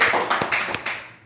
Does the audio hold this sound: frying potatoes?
no